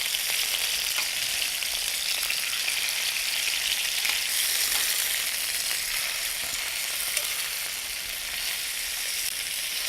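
Stuffed chicken pan-searing, with a steady, close, loud sizzle and hiss of frying that runs unbroken for the whole stretch, with no talking over it.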